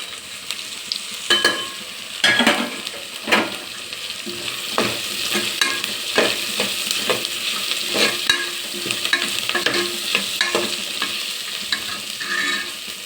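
Onions frying in oil in a pan with a steady sizzle, broken by repeated sharp scrapes and clatters as they are stirred, close and fairly loud with no voices.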